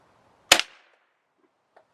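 Webley Nemesis .177 CO2 air pistol firing a single sharp, close crack that dies away quickly, followed by a very faint tick.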